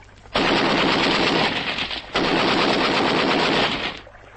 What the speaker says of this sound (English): Give them a burst from the Bren.